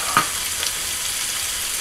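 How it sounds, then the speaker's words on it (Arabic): Turkey meat and tomato fry in a pot with a steady, soft sizzle and crackle throughout, fairly faint and close. "اللحم نتاعنا يتقلى، نضيفو الطماطم"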